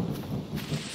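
Steady rain with a low thunder rumble in the video game STALKER Anomaly, heard faintly and continuously through one short moment.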